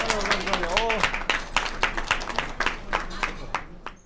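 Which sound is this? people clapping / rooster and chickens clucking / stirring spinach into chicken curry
people clapping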